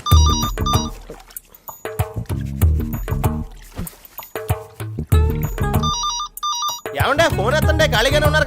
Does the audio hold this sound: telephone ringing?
yes